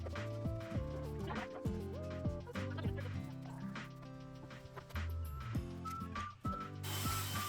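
Screws being driven into a wooden prize wheel, heard as close, steady clicking and ratcheting with whirring mechanical tones, continuous and fairly quiet with no speech.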